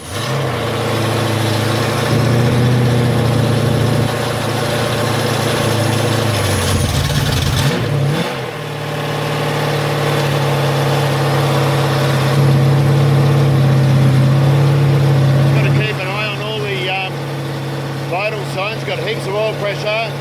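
Ford ZF Fairlane engine running close up at a steady fast idle of about 2000 rpm, loud and continuous with a brief dip partway through before settling back, and a voice speaking over it.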